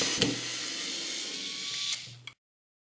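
A small electric screwdriver whirs steadily as it backs a large wood screw out, the motor buzzing close for about two seconds with a couple of clicks at start and end before cutting to silence.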